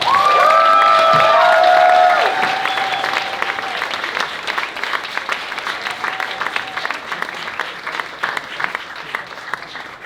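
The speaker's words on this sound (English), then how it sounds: "Can we give one more round of applause for Ariana, please?" A crowd at a New Orleans poetry festival bursts into loud applause and whoops, with a few shouts on top, then the clapping thins and fades over ten seconds.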